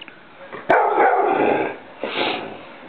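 A dog howls and barks indoors, close and loud, in a sustained drawn-out howl followed by a second shorter burst of vocalizing.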